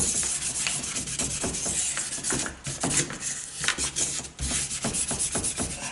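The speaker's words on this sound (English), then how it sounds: "I'm gonna take a fine grit sandpaper, whatnot, and just kind of sand the surface of that so the paint can stick to it" Fine-grit sandpaper rubs across a lamp base in quick back-and-forth strokes, a close, continuous rasping scrape with short pauses between passes.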